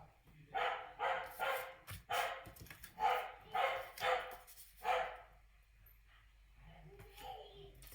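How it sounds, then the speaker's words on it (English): A pet dog barks in repeated bursts in the background of a home, the yaps coming in quick clusters and trailing off toward the end, with a voice also present. "And that would be my dog and my child in the background."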